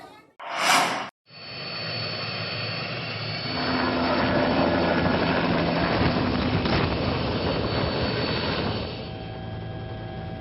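After a brief burst of noise, a loud helicopter engine drones steadily with rotor whine, swelling slightly midway and holding close by, during an aid delivery flight in Mimika, Papua.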